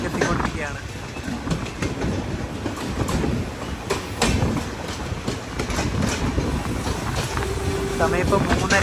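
Ernakulam–Velankanni biweekly express train running toward Karunagappally station, continuous loud on-board rumble with rhythmic clickety-clack of wheels over rail joints and a brief tonal squeal near the end.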